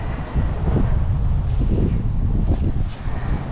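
Steady wind rumbles and buffets against the microphone throughout, a low continuous roar with no voices.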